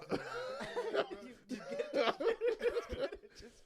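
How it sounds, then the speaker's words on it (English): Several short, harsh coughs break out among lively laughter and overlapping voices in a close group of people, with bursts scattered across a few seconds. "See the cough."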